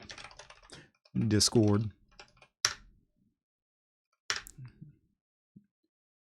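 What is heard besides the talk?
typing on a computer keyboard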